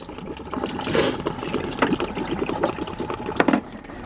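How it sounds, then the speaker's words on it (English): Engine coolant draining from a Subaru EJ engine into a drain pan, a steady splashing, trickling pour with occasional louder gurgles and spatters, close and continuous without talk. "pull this out, let the coolant drain"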